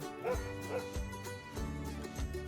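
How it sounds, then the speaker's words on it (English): A dog barks and yips repeatedly in a farm setting with hay, giving several short, fairly faint calls over a steady background. "There's a dog."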